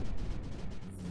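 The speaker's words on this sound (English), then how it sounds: "Oh, that was a cannon." Cannon fire in the strategy game Creeper World 4: a quick series of thudding shots repeating in a steady rhythm over a continuous low rumble, loud and close.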